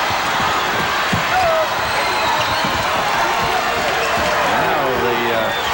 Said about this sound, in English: Now the crowd reacts